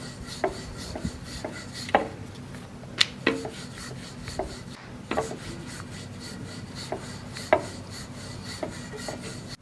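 Samosa dough is rolled out like a roti with a rolling pin, producing soft repeated rubbing strokes on a wooden surface punctuated by sharp knocks at irregular intervals.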